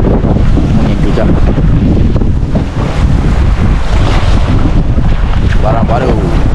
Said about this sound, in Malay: Angin kejap.